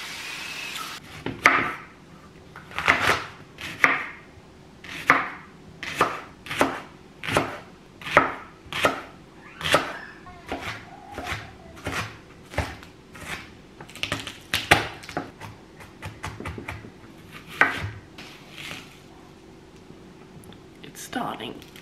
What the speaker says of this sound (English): hadn't chopped up the onion or garlic, and I feel like I should do that first